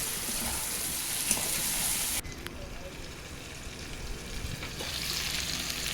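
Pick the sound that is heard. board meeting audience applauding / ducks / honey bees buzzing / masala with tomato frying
masala with tomato frying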